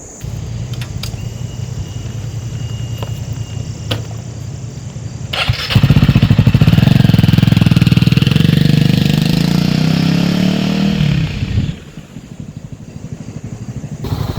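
A KTM 390 Adventure motorcycle ridden on a mountain road: a steady engine drone at first, then a louder, rising surge of engine and wind from about six seconds that eases off near twelve seconds, with no talking.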